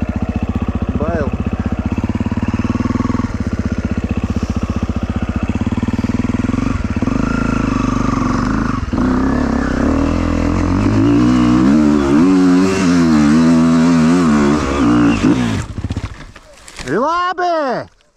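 Motorcycle engine revving and pulling along an off-road track with roots, loud and continuous with rising and falling rev sweeps, a voice speaking over it, ending in sharp high rev bursts before cutting out.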